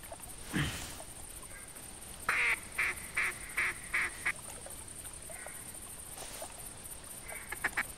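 Ducks quack in the hunting game theHunter, a run of about eight rhythmic quacks at moderate distance, with a few scattered calls before and after over a faint steady background hiss.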